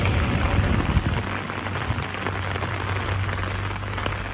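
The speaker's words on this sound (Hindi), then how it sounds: "यहाँ पहाड़ों में अब रेगुलर बारिश हो रही है ना" Steady rain falling in hilly mountain country around Pithoragarh, a continuous broadband hiss of drops with a low rumble beneath, even and fairly close with no voices.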